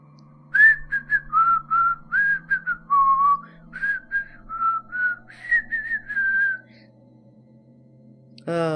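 A person whistles the Magic Roundabout opening theme, a bright run of short tuneful notes and a few held ones, clear and close over a faint background hum, ending in a brief pause.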